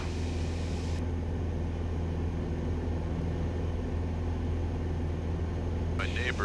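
Steady engine drone of a Grumman AA5 light aircraft in flight over Rhode Island, a constant low hum from start to finish, with brief higher clicks at the start and near the end.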